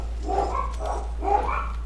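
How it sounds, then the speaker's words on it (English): Dogs bark in a few quick, muffled bursts at moderate distance over a steady low hum, with no talking. "What are they barking at?"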